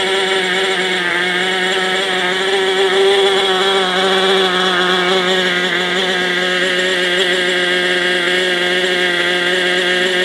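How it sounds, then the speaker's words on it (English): A small Raptor 30 gas-powered model engine buzzes at a high, steady whine, running continuously and close by with slight wavers in pitch. "Smokes like a nitro, sounds like a nitro, but it's a gas engine."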